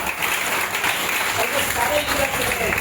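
Audience applause for leaders at a MODICARE business meeting and celebration, steady dense clapping throughout with some voices and crowd noise mixed underneath.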